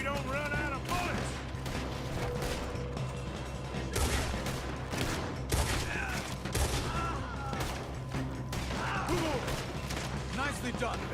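Gunfight in the video game Red Dead Redemption 2 during a robbery, with repeated gunshots scattered through the stretch amid game sounds and character voices talking over the action.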